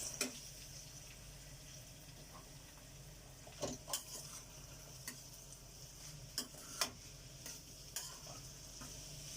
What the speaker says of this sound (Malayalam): ഇതിനി നന്നായിട്ട് വഴന്ന് നല്ല സോഫ്റ്റായി വരണം. അതുവരെ സവാള വാട്ടണം.